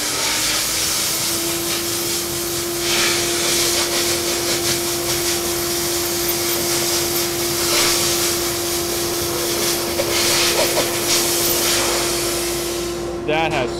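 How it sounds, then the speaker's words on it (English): A dry soda blaster hisses loudly and continuously as it strips grease and grime off a part, a steady rushing blast with a constant whine and no pauses. "as soon as that soda hits this part, it's actually exploding because the soda is so brittle, but it still does such a good cleaning job"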